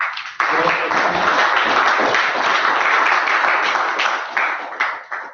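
A club audience gives a sustained round of applause, dense clapping starting abruptly and holding steady for several seconds before tapering off at the end.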